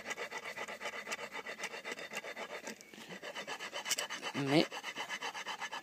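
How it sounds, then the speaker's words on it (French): Brake pad edges being filed down with a rasp during a rear brake pad fitting, a steady rhythmic scraping of repeated strokes close by, with a brief louder scrape near the end and a single spoken word. "Pour pas que ça siffle, il faut bouffer un peu la plaquette sur les côtés."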